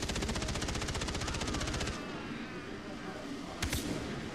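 Rapid automatic gunfire in a Far Cry 3 online multiplayer match, a fast, even burst of shots for about two seconds, then quieter game ambience and a brief later burst.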